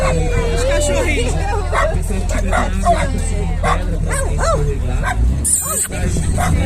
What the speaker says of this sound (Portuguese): Os cachorrinhos.